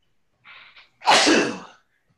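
A single loud, sharp sneeze with a short breathy intake just before it, close by and otherwise quiet.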